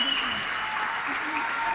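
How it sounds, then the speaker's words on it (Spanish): People in a Valencia street applaud healthcare workers, a dense crowd of hand claps rolling on continuously from windows and balconies, with no talking heard. "Ya va saliendo más gente aplaudiendo."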